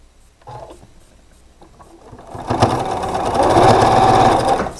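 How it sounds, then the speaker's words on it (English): A sewing machine stitches quilt block pieces together, starting after a few quiet handling sounds and building into a close, steady run of rapid mechanical whirring that continues to the end. "let's go sew all these together"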